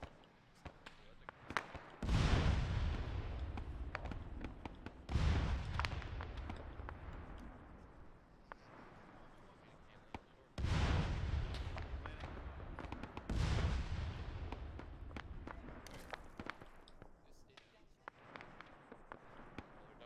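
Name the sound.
gunfire and explosions in a Korean War video game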